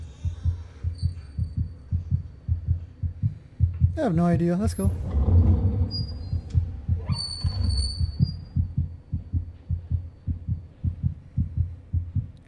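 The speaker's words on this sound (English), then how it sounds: "Why is my heart beating so fastly?" A steady, fast, thumping heartbeat from the horror video game Among the Sleep, loud and rhythmic throughout, with a person talking briefly over it and a swelling rumble partway through.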